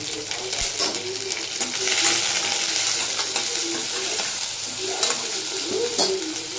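Raw banana pieces fry in a pan while a spoon stirs them, giving a steady close sizzle broken by scraping and light clinks against the metal.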